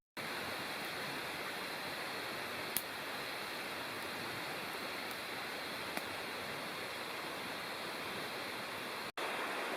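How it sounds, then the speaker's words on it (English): Steady, broadband rush of flowing water from a nearby creek in the Upper Bald River Wilderness at night, constant and unbroken, with no voices. "except for the creek over there."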